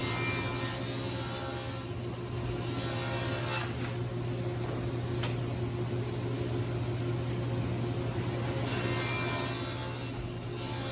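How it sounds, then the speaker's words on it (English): A saw ripping MDF panels into strips in a home workshop, a loud, steady whine with a constant motor hum running unbroken for the whole stretch, no voices. "Ripping these panels down, pretty straightforward."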